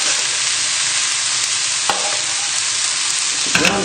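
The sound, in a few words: tossing cabbage in bacon fat in a pan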